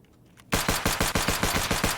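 Rapid automatic gunfire from the shooter game Escape from Tarkov, a loud, steady burst of about a dozen evenly spaced shots starting suddenly after a brief quiet moment and running to the end.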